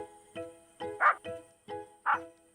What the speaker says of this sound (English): began to bark loudly